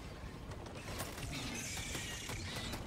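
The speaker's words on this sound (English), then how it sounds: "Reloading." A weapon being reloaded in Helldivers II: a quiet run of mechanical clicks and ratcheting metal clacks over steady background game noise, with no voices.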